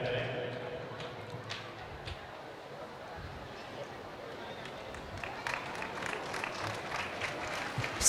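A crowd at a Hindu temple bhajan gathering claps for the priests, with scattered applause rising toward the end beneath a talking voice.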